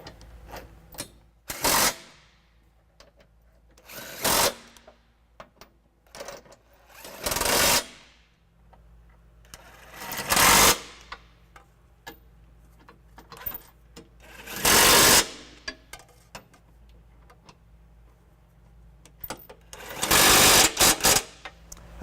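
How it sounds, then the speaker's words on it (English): An impact wrench with a 19mm socket snugs down trailer hitch bolts on a 2012 Jeep Liberty, six loud, short rattling bursts spaced a few seconds apart, with quiet garage background between them. "now I'm going to go ahead and take our impact again in a 19mm socket this time and just snug everything down before I torque it."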